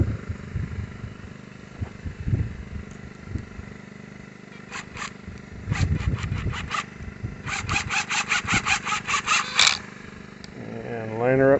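A self-tapping screw is driven into an electric fence insulator on a well pipe, heard as short bursts of a drill's whirring, ratcheting chatter, close by, with a low voice speaking between the bursts.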